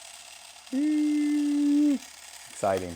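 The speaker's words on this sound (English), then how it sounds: "You can hear the camera running." A Minolta XL401 Super 8 film camera runs for about a second with a steady, close mechanical whir, then stops before a brief spoken word.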